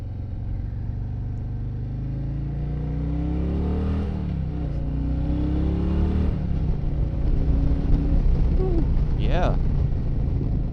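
A 700-pound 2024 Harley-Davidson Fat Boy motorcycle accelerates off the line with a deep, loud rumble rising in pitch through several gear pulls, with wind noise building.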